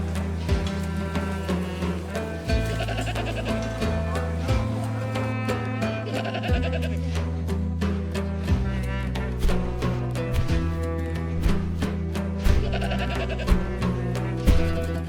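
Sheep and goats bleat repeatedly over a sustained musical score in Afghan rangelands, the calls rising at irregular intervals, fairly close and prominent.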